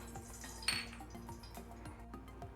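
A metal pan set down on a kitchen stove ahead of tempering mustard seeds in coconut oil for a Kerala-style curry, a single faint clink over a soft, steady background hum.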